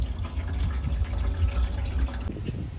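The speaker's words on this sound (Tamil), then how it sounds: "பேக்கிங் சோடா போட்டு தண்ணி வந்து ஃபில் பண்ணியாச்சு." Water pours into a rusty petrol tank already dosed with baking soda, making a continuous gurgling, splashing fill sound that stays close and steady throughout.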